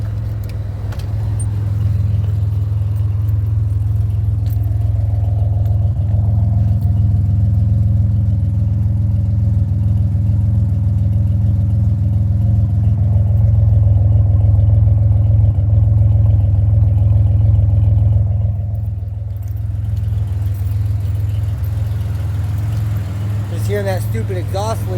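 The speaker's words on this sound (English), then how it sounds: "Hearing that stupid exhaust leak." A 2007 Pontiac Grand Prix engine idles steadily with a deep, constant rumble and a faint ticking from an exhaust leak, close by and unchanging for most of the clip.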